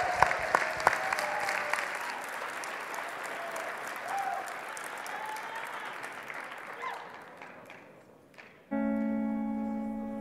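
A furry convention crowd at Midwest Furfest 2014 applauds and cheers a dancer at a dance competition, with sustained loud clapping and whoops that fade out before music with a steady tone abruptly begins.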